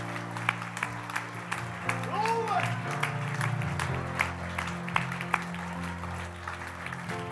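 A church congregation at a Bible study claps in praise, a moderate wash of hand clapping with scattered louder claps, layered over background music and murmuring voices.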